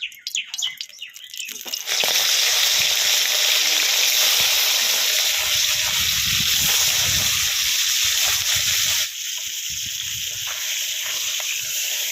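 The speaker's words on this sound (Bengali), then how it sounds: "মাছগুলো ভেজে নেব" Fish rubbed with salt and turmeric goes into hot oil in a pan after a few clattering sounds, then sizzles loudly and steadily, easing to a quieter fry near the end.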